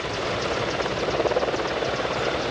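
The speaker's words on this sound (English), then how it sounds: "the capability of this very advanced helicopter" A CH-149 Cormorant search and rescue helicopter flies a demonstration at the Abbotsford Airshow, its steady engine and rotor roar loud and continuous throughout with a slight swell midway.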